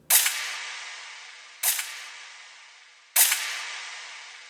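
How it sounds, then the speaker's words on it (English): Three sharp gunshot sound effects from a New York drill beat at 157 BPM, evenly spaced about a second and a half apart, each with a bright crack and a decaying tail, loud and alone. "I also laid down this standard drill gunshot."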